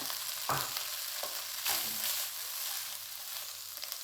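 Chicken goes into a pan of golden fried onions, bringing a sharp burst of sizzle followed by a steady hiss and a few stirring knocks up close, with no talk.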